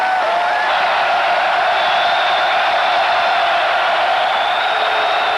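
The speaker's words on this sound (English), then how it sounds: "Too much noise down here at this end." Loud, sustained roar of a stadium crowd at a Notre Dame football game, an unbroken wash of cheering and shouting that stays steady throughout with no pauses.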